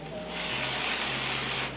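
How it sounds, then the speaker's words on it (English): Cooking spray hisses in a single steady burst of under two seconds, close by, as oil is sprayed onto paper lining a steamer basket for pork dumplings. "just for good measure, I'm going to spray the paper."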